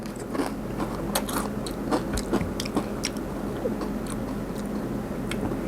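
Crispy pork rinds are crunched between the teeth close up, with a run of sharp, brittle bites and chews repeating irregularly over a steady low background and no talk.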